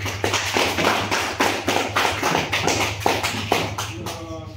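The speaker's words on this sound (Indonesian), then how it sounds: "kita berikan aplaus untuk kelompok 1" A classroom group applauds, producing a steady run of close hand claps in a loose rhythm over a low background hum, fading out at the end as someone begins to speak.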